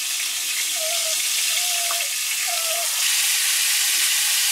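Freshly dug clams dredged in a flour-and-saltine coating sizzle steadily in hot oil, a dense, even hiss that stays close and constant, with a few faint tonal squeaks rising above it.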